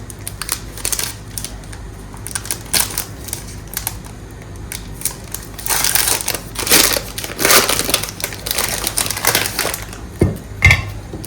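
A knife chops through a bar of dark chocolate on a board at home, giving irregular crunchy cracks close by that speed up into a dense burst of cutting near the end.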